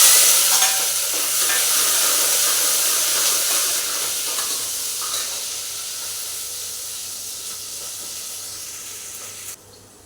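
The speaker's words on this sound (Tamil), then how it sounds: "இப்போ வெங்காயம், பச்சை மிளகாய், கருவேப்பிலை தழை போட்டுக்கலாம்." Onion, green chili and curry leaves frying in hot oil with popped mustard seeds for a Kongu-style rice and dal meal, giving a loud, steady sizzle and hiss that fades slightly over the stretch, with no talking.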